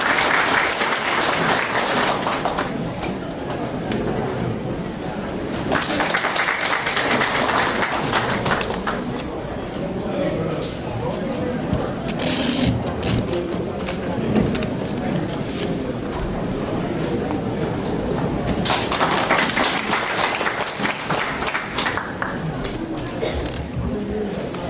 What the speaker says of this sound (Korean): 힘찬 경례 박수가 필요합니다.